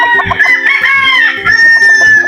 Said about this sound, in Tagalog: Ito yung mga manok natin sa likod.